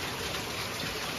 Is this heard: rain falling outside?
yes